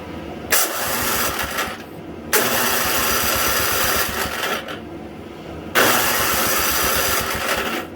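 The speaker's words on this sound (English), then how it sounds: "I'm going to go through and just test the starter" An electric starter cranks a Simplicity 560 snowblower engine in three long bursts, each a steady, loud, chugging whir cut by short pauses, with no voices.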